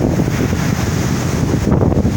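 Ocean surf breaks in front of a beachfront estate at Ibeju-Lekki, Lagos, Nigeria, a loud, continuous roar of waves heavily buffeted by wind on the microphone, with no talk.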